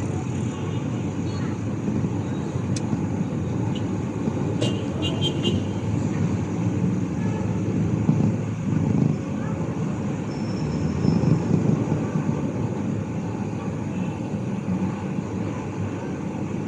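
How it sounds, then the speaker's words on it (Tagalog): Busy road traffic hums steadily in the background, a continuous engine rumble with passing vehicles swelling now and then, while people chat nearby. "Paul, grabe traffic dito ah"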